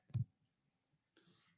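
A calculator key is pressed once with a single sharp, close click, followed by a short faint rustle in an otherwise quiet room.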